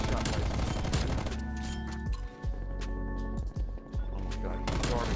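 Gunfire in Black Ops Cold War, with dense bursts of rapid automatic shots at the start and end and sharp single cracks and clinks between, loud and close, with a voice talking over part of it.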